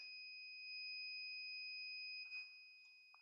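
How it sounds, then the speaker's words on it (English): A buzzer alarm driven by a microcontroller chip gives a steady, piercing electronic tone that holds for about three seconds, quiet and alone with no talk. "if I click alarm on, it's going to turn on a buzzer"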